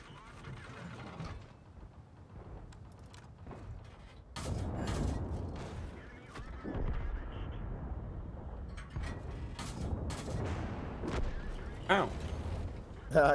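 A tank's double-barrel gun fires in World of Tanks, heavy booming shots and rumbling blasts mixed into battle noise, with a player talking over the action.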